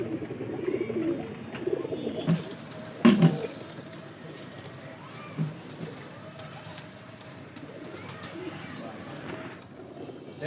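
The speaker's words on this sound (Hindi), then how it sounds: "देख सकते हैं डब वाले कबूतर है," Breeder pigeons of an old original breed coo softly in a loft, a low murmuring under steady background noise, with a brief louder flutter or bump around the middle.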